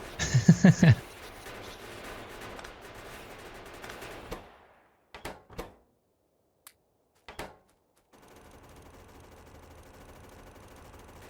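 Automated turrets in the factory-building game Factorio fire off their whole ammo supply: a dense, loud burst of rapid gunfire at the start, then steady clatter that breaks into a few sharp, separate shots before a low background returns.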